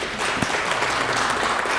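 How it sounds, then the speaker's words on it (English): United Methodist church congregation applauds on Palm Sunday, a dense, moderately loud burst of many hands clapping that carries on steadily for nearly two seconds. "Yes, you can clap, you can applaud."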